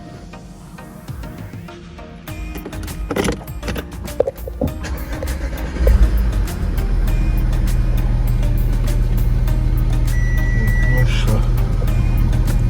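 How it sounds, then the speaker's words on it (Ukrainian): Damaged 2011 Audi Q5 engine being started: a short crank and catch, then a loud, steady idle running close by, with someone talking briefly before it fires. "мотор працює."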